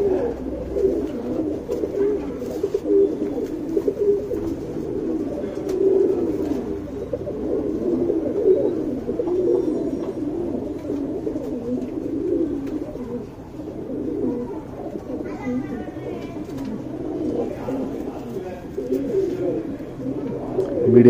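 Chini gantu pigeons coo steadily in a low, throaty rolling drone, several birds overlapping continuously throughout, close and moderately loud with faint background shuffling.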